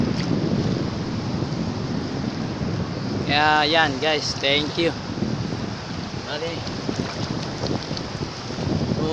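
Strong sea waves washing against the shore, a continuous rushing surf mixed with wind buffeting the microphone, while a person talks over it.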